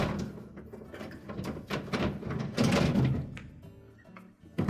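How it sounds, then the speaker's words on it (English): A lower crisper drawer slides out of a GE refrigerator during a water tank replacement, giving a few close plastic scrapes and knocks with an uneven rhythm that ends in a sharp bump, with no voice over it. "We can start by pulling that drawer out."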